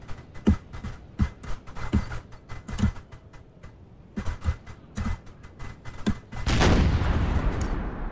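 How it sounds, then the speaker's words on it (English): Cannon artillery fire in the Napoleon Total War 3 video game booms as scattered distant shots in irregular rhythm, followed by a louder sustained roar of battle noise at the end. "you can hear the cannon shooting."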